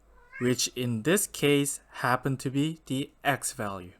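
A house cat meows a few times in the foreground, its calls overlapping with a person talking steadily about solving a maths problem.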